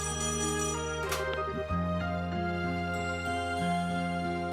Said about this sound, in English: An immediate call, also not unexpected.